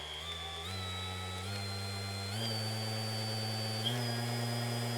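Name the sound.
Mirka AROP312-B 3-inch random orbit polisher running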